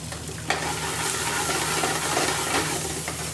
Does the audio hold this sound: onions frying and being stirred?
yes